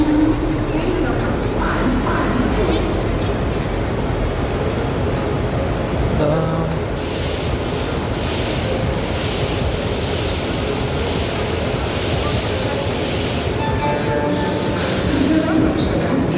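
Steady, loud rail rumble on a crowded platform at Chhatrapati Shivaji Maharaj Terminus, with intermittent metallic clicks and a hissing burst near the end, voices talking throughout.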